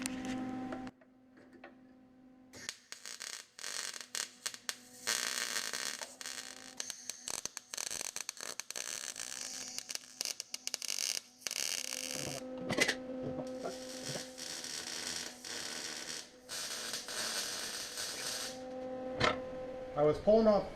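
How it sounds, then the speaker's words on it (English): MIG welder laying a weld on a steel tab for a replica A2 front tie bar and hood hinge, giving a dense crackling, sputtering buzz in bursts of several seconds between short pauses, close and fairly loud. "So let me just weld this tab because I can get my MIG in there."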